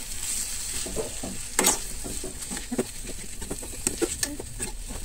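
Soya chunks roasting in a hot pan during home cooking, a low continuous sizzle broken by scattered scraping and tapping of a stirring spoon, with faint bird calls in the background.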